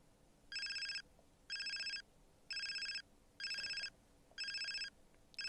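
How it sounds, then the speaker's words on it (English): A telephone rings in the ToHeart visual novel, five even electronic ring bursts with short gaps between them, each about a second long, clear and alone with no voices. "Phone wakes me up."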